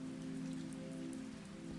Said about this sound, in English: The rain falls on all of them. It taps against hoods, collects in the road